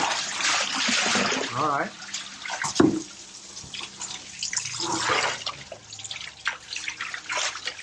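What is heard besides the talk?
water washing coconut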